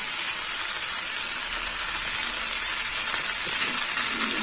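Tomatoes cut into four pieces sizzle in a hot frying pan with chili powder while cooking a chickpea dal with jackfruit, a steady hissing fry throughout with no talking.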